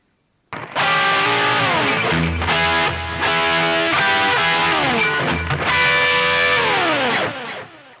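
A heavily distorted electric guitar plays a rock song phrase, ringing double stops with sliding bends, picked chords and short muted stabs, loud and alone for several seconds.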